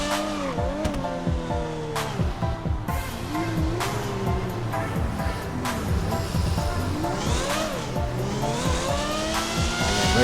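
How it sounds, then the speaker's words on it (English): Simulated hybrid V12 Lamborghini engine from a modded driving game, revving up and down in repeated sweeping pitch climbs and gear shifts, loud and continuous with tire noise, no talk. "I don't think that the sound mod that I use is entirely accurate for this thing, considering that it's a hybrid V12"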